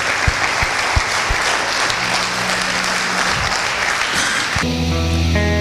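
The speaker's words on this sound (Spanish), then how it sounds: "yo sé que usted puede darle un mejor aplauso al Señor" A church congregation applauds at a worship service, a steady, dense wash of clapping, with sustained organ or keyboard chords entering under the applause near the end.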